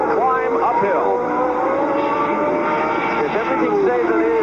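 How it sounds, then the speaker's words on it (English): Race cars roaring through corner number 2 and starting a long uphill climb, engine whines sweeping up and down in pitch as several cars pass, under a commentator talking. "Let's find out as the cars move up through corner number 2,"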